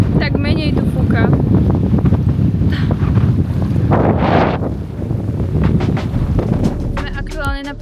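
Strong wind buffets the microphone outdoors in Hurghada, Egypt, a loud continuous roar with gusty surges, while a person speaks under it.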